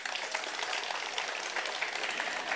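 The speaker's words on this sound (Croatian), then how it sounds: "pa ih pozdravite jednim velikim pljeskom" At an evening concert, an audience greets a tamburica orchestra from Osijek with loud, dense applause that holds steady, many hands clapping together.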